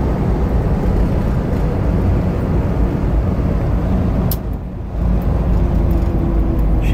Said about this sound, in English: Engine just purrs, transmission smooth